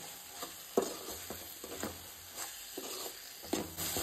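Fried prawns being stirred into a pot of Goan-style prawn biryani, with soft scraping stirs and light sizzling, a few sharper spoon knocks against the pot at a steady, unhurried pace.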